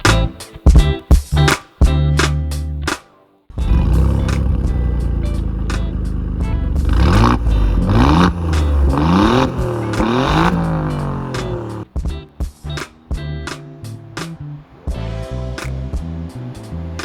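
An Alfa Romeo Giulia Quadrifoglio revs loudly in short sharp blips, then pulls away under hard acceleration, its engine note climbing and dropping through several gear changes before more quick revs at the end.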